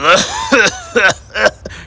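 A cartoon car sputters like a sick engine coughing, in four harsh, evenly spaced bursts with short gaps between them, loud and close.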